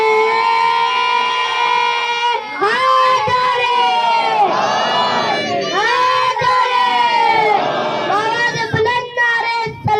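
A crowd at a Shia religious gathering chants devotional slogans loudly in unison, rising and falling shouts filling the space continuously with dense overlapping voices.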